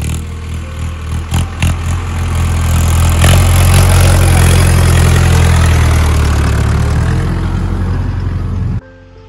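A farm tractor engine idling steadily nearby, a loud low rumble that starts with a few uneven throttle pulses, settles into a constant drone and cuts off abruptly near the end, with no talk.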